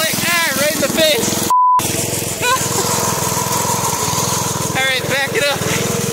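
Small engine of an old one-wheel peel go-kart in need of a new carb, running with a steady buzzing drone close by while people talk and shout over it.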